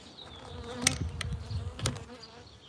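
Honeybees buzz at an open hive during an inspection, a close, steady insect drone with wingbeats flicking past the ear, punctuated by a couple of brief knocks from handling the hive parts.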